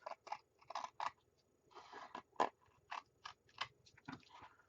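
A series of crisp snips as long, sturdy Tim Holtz scissors cut through paper, about a dozen quick irregular cuts, close and fairly quiet.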